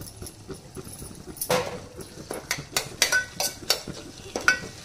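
Ginger garlic paste frying in a pan for a coconut beans curry, with soft sizzling under repeated scraping and clinking of a spoon stirring against the pan.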